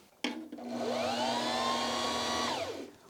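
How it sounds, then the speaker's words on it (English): A Viking Onyx 15 sewing machine winding a bobbin, a click followed by a motor whirring up in pitch, holding a steady hum for about two seconds, then winding down. "Now we can keep winding our bobbin."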